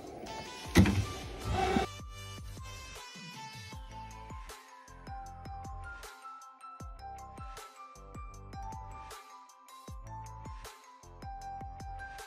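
A SDX 1200 cutting machine cuts a sticker, giving a steady mechanical whir of stepping motor moves with short repeated bursts and pauses, close and moderately loud after a brief louder clatter at the start.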